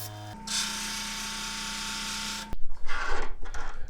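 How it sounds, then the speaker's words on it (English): A 600 grit lapidary wheel spinning with a steady mechanical whir and hum, polishing agate nodules, then cutting off abruptly into wetter, uneven grinding and scraping noises up close. "we're going to get right into working on the 600 grit wheel"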